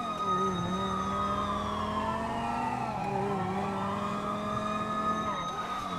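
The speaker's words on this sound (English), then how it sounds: "Do I hear more sirens?" Several police sirens wail together in a role-play police chase video game, their overlapping pitches sliding up and down steadily over a constant engine rumble, moderately loud and continuous.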